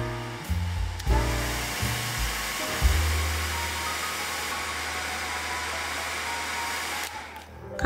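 A hair dryer blowing steadily to dry a watercolour pencil painting of a flower field, with a few bumps and shifts at the start before a long even whoosh that cuts off near the end.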